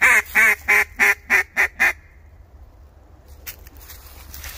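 A voice imitates a duck with seven quick, loud nasal quacks in a row, followed by quiet and a few faint rustles.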